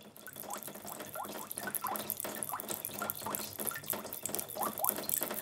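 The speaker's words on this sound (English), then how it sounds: "you'll start to hear that those drips get more and more intense." Water drips from a Krotos Studio Pro sound design preset, a steady series of fairly regular small plinks and splashes that grow denser and more intense, fairly quiet and with no voice.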